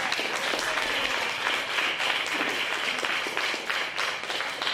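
An audience at a talk claps steadily and densely for about five seconds, with a fairly loud, even wash of hand claps and no break.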